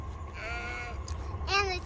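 Two short bleats from goats nearby, the second louder and higher, over a low background hum.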